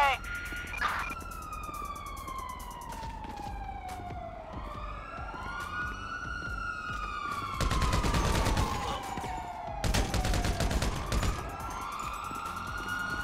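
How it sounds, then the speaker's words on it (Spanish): Wailing ambulance sirens in GTA 5 sweep up and down continuously, with bursts of gunfire-like noise and engine rumble in the background. "por eso es que se escuchan las ambulancias, están llegando"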